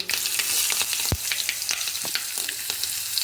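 Mustard seeds crackle and pop sharply in sizzling hot oil while tempering for a pumpkin curry, irregular bursts over a continuous frying hiss.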